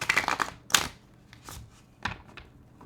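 A few bursts of cards being riffled and shuffled, close and crisp, with short pauses between the quick flutters; no voices.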